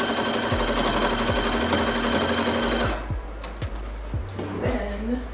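A sewing machine stitches down the hem of a half-scale floral bubble ballgown, running in a steady loud whir with brief stops and restarts, then quieter handling of fabric.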